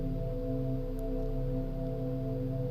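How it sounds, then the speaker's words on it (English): A soft, sustained synth pad holds layered steady tones, its timbre slowly shifting as a filter sweeps gently, with no voices. "So that's a super beautiful ambient pad."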